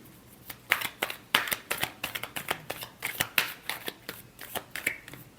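Tarot cards are shuffled close by in quick bursts of crisp riffling and tapping, a busy, uneven rhythm over a few seconds with no talk.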